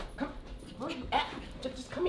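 A dog whimpers and yips in a few short, high bursts close by, while a person talks over it.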